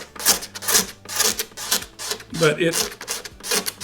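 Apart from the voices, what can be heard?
sharp razor blade scraping a wooden tabletop surface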